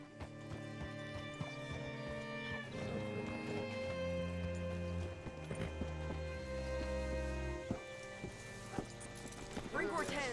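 Horse hooves clip-clopping in Red Dead Redemption 2, a steady trot heard under a swelling orchestral score, with a voice speaking in places.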